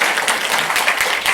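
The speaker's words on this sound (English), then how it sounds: "I think it just needs an extra clap." Audience applause at a bookshop launch for the novel Cloudwish, with a steady patter of many hands clapping close by that lasts the whole moment without pause.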